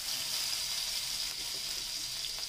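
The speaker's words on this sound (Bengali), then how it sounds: "আমার তেলটা দিয়ে নিয়েছি, তেলটা গরম হয়ে গেছে, আমি এখন মাছগুলো ভেজে নিব।" Fish sizzles in hot oil in a pan, a steady, even hiss that goes on without a break and with no talk over it.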